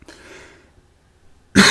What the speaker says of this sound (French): Je vous prie de m'excuser pour cette toux.